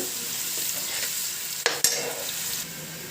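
Onion paste fries in oil with a continuous close sizzle, broken by a couple of sharp stirring knocks midway.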